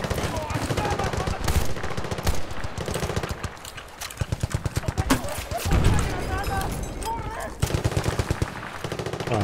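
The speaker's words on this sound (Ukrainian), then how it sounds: "Ой-ой-ой, там кулемет" Rapid machine gun bursts fire in the video game Battlefield 2, loud and dense and coming in repeated volleys with short breaks, mixed with other battle noise and voices.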